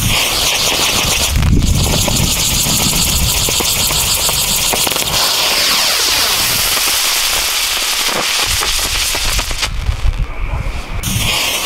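A small homemade basket-style firework lit and launched outdoors, crackling and popping loudly and continuously throughout, with sharp bursts and a dense hissing crackle toward the end.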